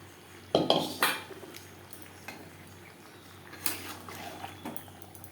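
A metal wok used for frying jackfruit clanks and scrapes a few times near at hand as it is washed, with faint watery sounds between the knocks.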